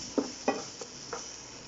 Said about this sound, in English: Just move the onions and the peppers around in the pan to make sure that they cook evenly.